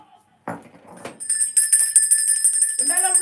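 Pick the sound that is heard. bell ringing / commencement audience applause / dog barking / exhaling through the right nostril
bell ringing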